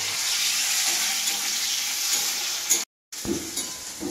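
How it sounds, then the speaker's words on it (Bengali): Onion and tomato sizzle steadily in a hot pan while being stirred, a close, constant hiss broken by a brief cut near the end, with no talking. "টমেটো আর পেঁয়াজটা ভাজা হইলে এবারে দেবো পচনিটা।"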